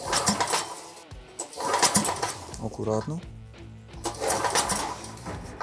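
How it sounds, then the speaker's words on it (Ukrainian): A Vitals WP 5.0be petrol generator, with its motor directly driving the alternator, starts and runs with an uneven, chugging engine note, close and fairly loud, while a person speaks briefly. "ось вам наочна демонстрація, як працює генератор. Мотор напряму крутить альтернатором генератора."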